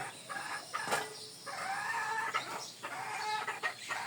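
Chickens being fed rice cluck and chatter nearby in a village yard, a busy run of overlapping short calls with a few sharp louder cackles.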